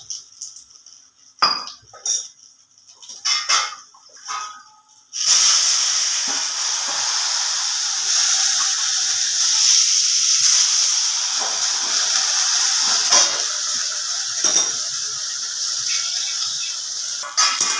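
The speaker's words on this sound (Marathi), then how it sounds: "आता आपण त्याच्यावर पाण्याचा शिपका मारू" Besan-coated green chillies fry in hot oil with a few clinks of a utensil, then water splashed into the pan sets off a loud, sustained sizzling hiss that keeps crackling up close.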